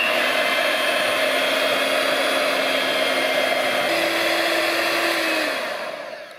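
An electric mixer whirs continuously and loudly while beating cheesecake batter made with instant lemon and sugar, its pitch shifting partway before it winds down at the end.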